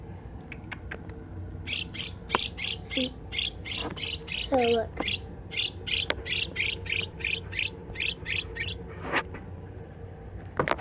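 A small pet bird squawks while being hand-fed, giving a close run of rapid, sharp, repeated calls in quick bursts, with a person speaking briefly nearby and a few softer chirps mixed in.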